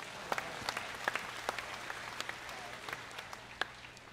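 A church congregation claps together, a fairly faint, moderately dense patter of many hands with a few sharper, closer claps standing out through the four seconds, steady rather than building.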